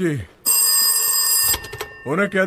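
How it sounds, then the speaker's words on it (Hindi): A telephone bell rings loudly and continuously for about a second at midnight, then stops; people talk briefly before and after the ring. "जाके फोन उठाओ, एजेंसी वालों का ही कॉल होगा"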